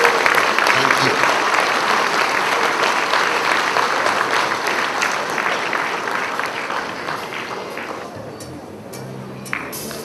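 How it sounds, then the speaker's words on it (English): An awards audience gives a big, dense round of applause for real estate honourees. The clapping is loud and sustained, then gradually thins and fades toward the end. "can we have a big round of applause for these people who have made a lot of sacrifices?"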